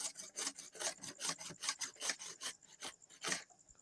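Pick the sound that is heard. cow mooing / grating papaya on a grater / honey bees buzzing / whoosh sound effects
grating papaya on a grater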